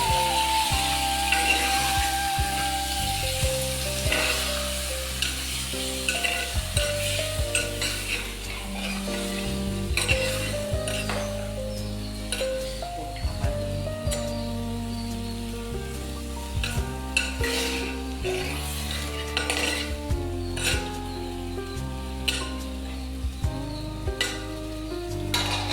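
Milk chicken curry sizzles in a pan while a utensil stirs it, giving close frying crackle broken by repeated scraping and clinking strokes throughout, with no talk.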